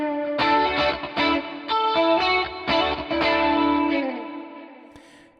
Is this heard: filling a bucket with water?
no